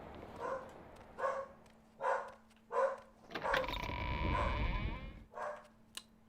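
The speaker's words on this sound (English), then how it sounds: "The dog is barking at somebody." A dog barks repeatedly in the role-playing video game The Pilgrimage on OpenMW, evenly spaced single barks at moderate distance, with a steady hum and a brief burst of other noise in the middle.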